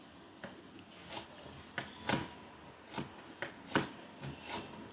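Food chopped by hand on a cutting board while making brochette skewers: a run of about ten crisp, close knife strikes at an uneven rhythm, heard alone without talk.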